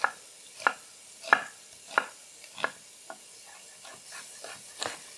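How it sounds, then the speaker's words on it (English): A knife slices through onions on a cutting board, about eight crisp, evenly spaced cuts that come near and clear, with no talking. "I'm gonna chop our onions"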